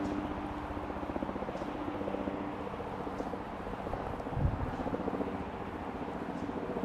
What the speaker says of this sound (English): There's another helicopter overhead.